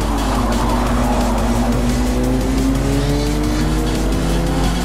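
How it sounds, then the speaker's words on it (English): Race cars on the Tsukuba circuit in Forza Motorsport 4 roar loudly and steadily, engine tones rising as they run close together, with tire squeal over the constant drone. "We've got some real tight racing between me and the next two cars."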